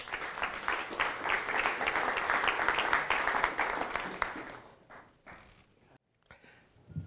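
Audience applause at a homelessness partnership event, a dense steady patter of many hands clapping for about four seconds before thinning out and fading to near silence.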